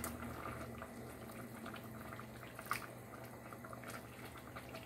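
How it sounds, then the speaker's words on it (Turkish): Spaghetti boils in a pot of water, giving a faint, steady bubbling and gurgling with small pops and drips throughout. "altını açıp 8-9 dakika kaynatıyoruz"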